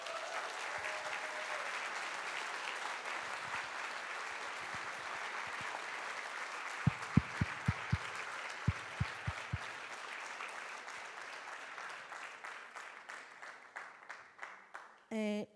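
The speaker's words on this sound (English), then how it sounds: "Let's keep all the clapping for the end" Audience applause fills a hall at an antizionist congress in Vienna, sustained dense clapping that thins into scattered claps near the end before a voice comes in.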